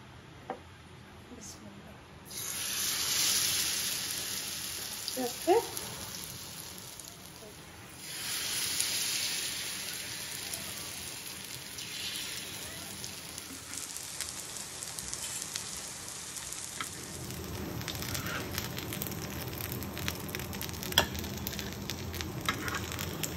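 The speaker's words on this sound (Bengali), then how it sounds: "কিন্তু আমি এমনিই ভাজি" Food fries in a pan with a steady hissing sizzle that swells louder and then settles, continuing close throughout. There are occasional clinks of utensils and some speech in the background.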